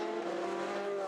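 Race cars at the Le Mans 24 Hours, including an Audi, powering hard out of a turn, a steady loud engine roar with no pauses and a faint hint of tyre scrub.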